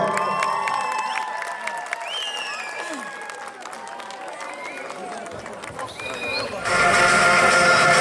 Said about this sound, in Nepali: थर्डको निम्ति थपडी मारिदिनुहोस्